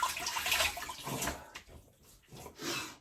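Running water rinses during a wet shave with Bluebeards Revenge shaving cream, a close splashing flow that swells, dips briefly and returns, with no talking.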